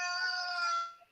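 A mobile phone ringtone imitating a chicken crowing plays once as a single bright, drawn-out crow lasting about a second, fading at the end with a faint final blip; no one speaks.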